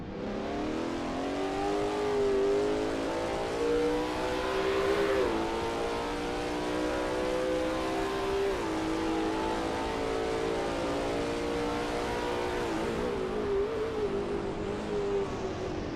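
Lola T70 MkII Spyder race car engine at Sebring in a racing sim, roaring loud and steady with rising and falling revs through gear changes as it drives through a turn, alone without any talk.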